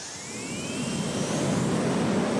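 Twin Klimov RD-33 jet engines of a MiG-29 Fulcrum spool up in the X-Plane flight simulator, a steady, loud roaring whoosh with rising whining tones that grows gradually stronger, no voices over it.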